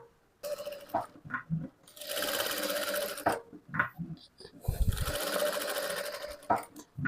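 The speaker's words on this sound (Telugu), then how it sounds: "ఈ పాదం మందం లోపలికి వచ్చేలాగా ఇలా స్టిచ్ వేసుకోవాలి." A sewing machine stitches the side seam of a frock in close, whirring bursts of about a second each, separated by pauses filled with clicks and handling noises.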